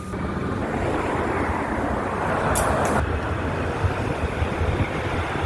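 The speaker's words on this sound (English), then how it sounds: "We've got another train coming in there." A broad, rumbling roar of a train rolling in, swelling in the middle with a brief high squeal, then settling into steady noise.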